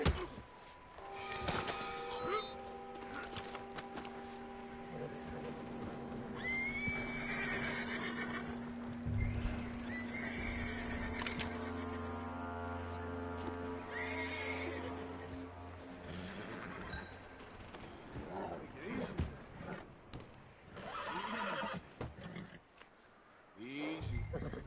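Horse neighing and whinnying with hoof sounds in the Red Dead Redemption video game, set against a continuous game soundscape of tones and music, with voices talking at times.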